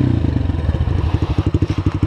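Trail motorcycle riding over rocks on a rough trail with gullies, rocks and logs, its engine chugging in quick, steady pulses up close with some clatter, and no talking.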